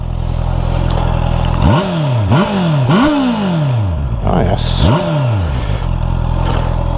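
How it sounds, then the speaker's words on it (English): A Honda CB650 E-Clutch motorcycle's short stubby exhaust revs loudly up close in several sharp bursts over a rumbling idle, with a brief spoken remark between revs. "Let's get down back to the exhaust and see what it sounds like from back here."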